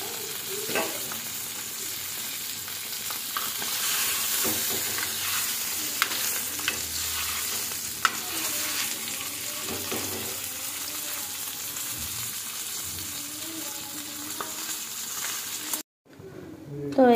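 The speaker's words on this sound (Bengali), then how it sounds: "দেখো এক পাল্টায় ভেজে নিয়েছি, আর এটা ভেজে নেব ব্যাস হালকা করে।" Fish fries lightly in a pan, a steady close sizzle with occasional soft stirring clicks that cuts off abruptly near the end.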